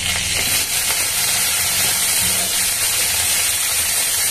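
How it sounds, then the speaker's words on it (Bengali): Onions frying in hot oil in a pan with cumin and dried chili, a steady, loud sizzle and hiss that holds throughout at close range. "আর একটু পেঁয়াজ দিয়ে দেবো। পেঁয়াজ,"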